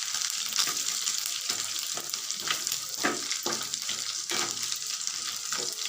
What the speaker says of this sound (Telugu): ఇలాగ బాగా వేగిపోవాలండి.